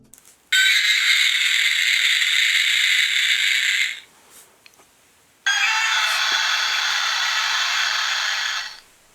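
Two electronic roars from Trendmasters Gamera kaiju action figures, each a harsh buzzy tone lasting about three seconds, played one after the other with a short gap, loud and close.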